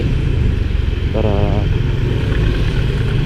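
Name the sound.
motorcycle engine while parking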